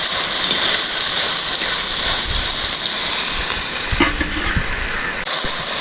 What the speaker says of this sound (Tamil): தக்காளி பார்த்திங்கன்னா நல்லா மசிட்டோம் அந்தளவுக்கு வதங்கட்டும்